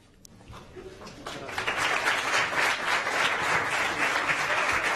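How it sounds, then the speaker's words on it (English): Young people gathered for a meeting with the Pope in Portugal break into applause. Faint at first, the clapping swells after about a second into sustained, dense applause from a large crowd that stays strong to the end. "And those who are here now are expressing their"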